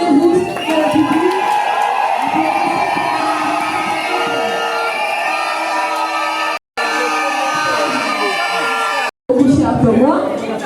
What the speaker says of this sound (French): Et au public, je vous prie d'applaudir.